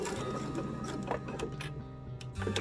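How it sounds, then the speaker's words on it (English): A sewing machine stitches straight off the edge of a quilted placemat, a close mechanical whir with rapid rhythmic ticking that shifts pitch partway through, with no talk. "I'm just going to sew straight off"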